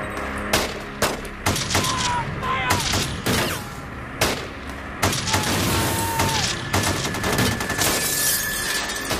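Rapid bursts of gunfire from the North Hollywood shoot-out, a fusillade of sharp repeated shots with booming echoes over several seconds, mixed with shouting voices.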